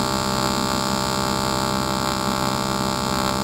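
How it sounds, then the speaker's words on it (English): An aluminum welding torch arc gives a steady, unbroken electrical hum with a constant buzzing tone and no pauses, heard alone and close throughout. "I'm just going to incorporate it into the weld."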